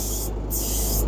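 A spray gun hisses out Cerakote coating inside a spray booth, one continuous loud, close airy spray for about a second with no pause.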